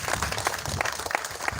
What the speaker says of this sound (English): let us have a hand of applause to our SD